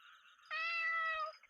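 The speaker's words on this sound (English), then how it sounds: "Oh, kitty cat." A single cat meows in a horror video game, one clear drawn-out tonal meow rising then fading, close and alone against near silence.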